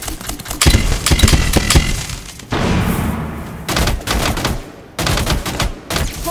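Gunfire in the Rainbow Six Siege Burnt Horizon map, a tactical shooter match: loud bursts of rapid automatic fire in several clusters, close and dense, with short gaps between volleys and no talk.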